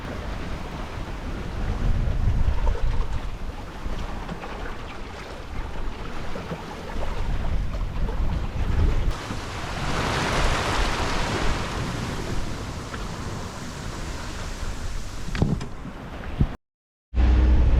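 Wind and waves aboard a sailboat near Little River Inlet on the Atlantic Intracoastal Waterway, a continuous rushing roar of wind buffeting the microphone over sloshing water, with no one speaking.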